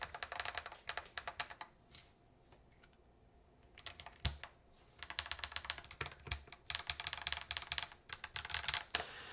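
Clicky bursts of typing on a Yunzii mechanical keyboard fitted with PBT keycaps and stabilizers needing tuning, fast keystroke runs broken by short pauses, close and fairly quiet with no voices.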